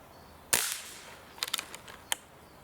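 A sharp, loud shot from a Kral Shadow 5.5 mm air rifle cracks out, followed by a cluster of quicker, fainter snapping pops and one final crack, all fairly close, during target shooting at 50 metres.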